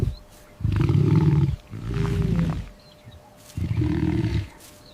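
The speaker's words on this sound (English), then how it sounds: "It's a lion." A lion roars in three loud, deep bursts separated by short pauses, heard alone without any talking.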